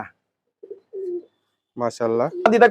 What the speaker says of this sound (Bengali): সবচেয়ে পছন্দের কবুতর